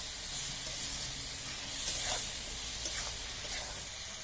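Spice paste sizzles steadily in a pan while being fried down for a spinach and fish head stew, a continuous close hiss with a few louder crackling bursts.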